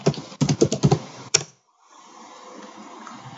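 Password being entered on a computer keyboard, a quick burst of about eight close key taps in an uneven rhythm, then a final tap and near silence with faint room noise.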